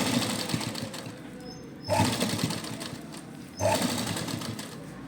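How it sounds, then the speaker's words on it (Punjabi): A sewing machine stitches piping along the neckline of a suit, running in two steady buzzing bursts with short pauses between, close and fairly loud. "ਇਹਦੀ ਆਪਾਂ ਉੱਪਰ ਦੀ ਸਿਲਾਈ ਲਗਾ ਲਾਂਗੇ ਇਸ ਤਰ੍ਹਾਂ"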